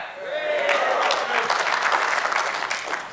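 An audience at a Take Back presentation on the NDAA in Redding, California, gives a short burst of applause that swells, holds for about three seconds and fades, with a few voices mixed in.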